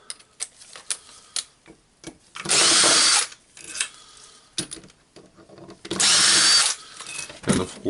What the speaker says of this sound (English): now this one I will unscrew it